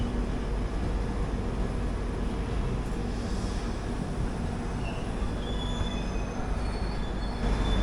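The Hubballi–Kochuveli Weekly Express rolls slowly into Baiyappanahalli station, heard from inside the carriage as a steady low rumble with faint, thin wheel squeals rising near the end.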